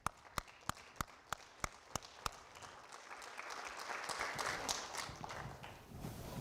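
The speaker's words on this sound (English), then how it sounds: "Round of applause," Audience at a university State of the University address applauding new faculty and staff: a few loud, sharp individual claps at the start, then a steady swell of crowd clapping that builds and holds.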